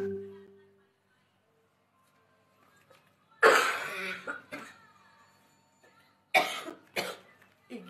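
A person coughs in two harsh bursts a few seconds apart, each a cluster of rough coughs, close up in a quiet room.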